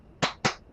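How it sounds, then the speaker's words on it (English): Two sharp hand claps land in quick succession, crisp and close, meant to switch clap-activated lights on or off in a quiet room. "clap lights."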